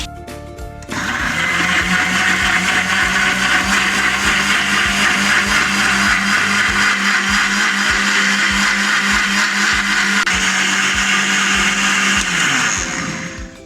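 A blender whirs loud and steady for about twelve seconds, mixing mango, ice cream, sugar and milk into a milkshake, then winds down abruptly at the end, with no talking.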